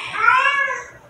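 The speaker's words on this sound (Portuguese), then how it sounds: "Vocês estão ouvindo aí, é uma de minhas gatas que está no cio" A female cat in heat lets out one long, loud, drawn-out meow close by, fading at the end, with no talking.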